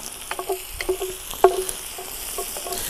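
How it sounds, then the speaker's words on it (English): Chopped onions for a traditional South African oxtail sizzle and crackle in a pan over a braai, with soft irregular pops and occasional stirring clicks, moderately close with no talking. "Just listen to the sizzle."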